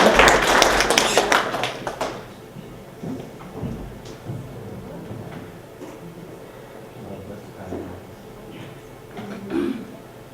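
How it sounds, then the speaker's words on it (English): Applause from a lecture audience at the end of a climate change class, a loud burst of clapping for about two seconds that quickly fades into quiet room sounds. "Round of applause."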